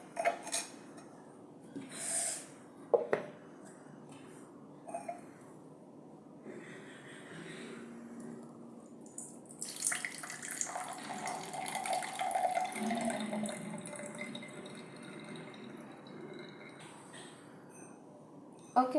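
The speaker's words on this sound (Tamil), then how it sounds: "இப்போ நாங்கள் வடித்து எடுப்போம்." Blended watermelon being strained into juice, soft close liquid pouring and trickling with light clinks and scrapes of utensils against a vessel, fairly quiet and continuous, with faint talk underneath.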